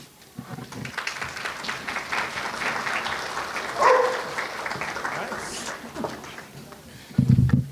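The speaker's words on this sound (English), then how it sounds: "That's the first time I was greeted by a bark." A dog barks at an evening alumni reception, a few sharp barks standing out over a steady murmur of crowd noise and background chatter.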